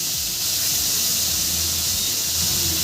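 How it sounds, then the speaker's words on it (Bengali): Okra (bhindi) sizzles and hisses as it fries in oil in a pan, a close, steady, loud crackling that continues without a break. "আর একটু ভেজে নিলেই হয়ে যাবে দেখো ফ্রেন্ড ভেন্ডিটা আমার ভাজা হয়ে গেছে"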